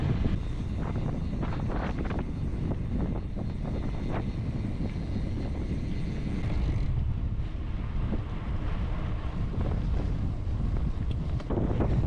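Strong wind buffets the microphone in a constant roaring rumble, with gusty low thumps and no voices, on a gravel road near Burra, South Australia.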